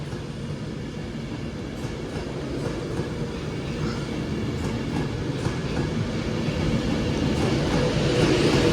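A Class 390 electric train pulls away from Crewe station toward Manchester Piccadilly, with a steady rumble and wheel clatter slowly building in loudness.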